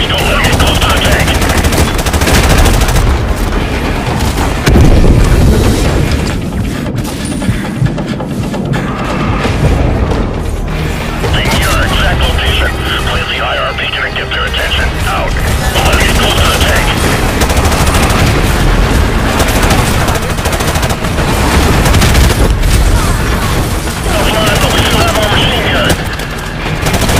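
Sustained machine gun fire and booming explosions from a Call of Duty: Mobile battle, dense and continuous throughout with rapid bursts layered over blasts, a voice briefly audible under the gunfire.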